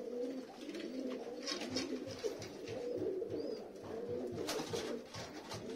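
Dönek pigeons coo in a steady, overlapping stream of low, soft warbling calls close by, with faint chirps and light movement noises in the background.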